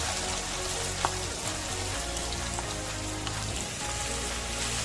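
Capsicum and onions fry in hot oil in a pan for pav bhaji. A dense, steady crackling sizzle runs throughout at an even level, with occasional small pops and no talking.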